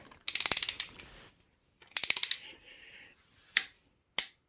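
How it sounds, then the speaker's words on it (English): Ratchet torque wrench clicking as it tightens head bolts to 25 pounds on a squarebody small-block engine, heard as two quick bursts of rapid close clicks followed by two single sharp clicks. "that's just the click of the ratchet"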